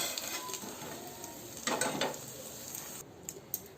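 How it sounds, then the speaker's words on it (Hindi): Brinjal (eggplant) fritters fry in hot oil with a steady, faint sizzle. The sizzle swells briefly near the middle and is joined by a few light utensil clicks toward the end. "और एही में तेल कनी सन और रख के बैगन के सब तरुआ तर लेवे।"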